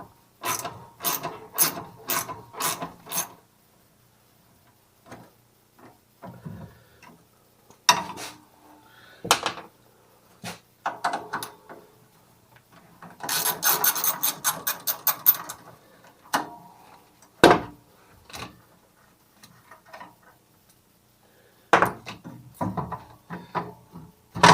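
A hand ratchet loosens the bolts to remove the seat from a Massey Ferguson GC2300 compact tractor, giving close, crisp bursts of rapid clicking separated by pauses and a few metallic clanks.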